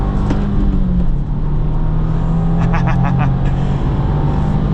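A 2025 Subaru WRX tS on the Road America track is heard from inside, its engine drone shifting pitch as the car downshifts, with someone talking over it.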